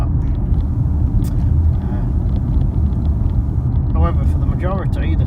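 Steady, loud low roar of wide, low-profile tyres heard from inside a 2017 Lexus LC 500h Sport+ hybrid V6 coupe cabin at motorway speed, continuous under a voice.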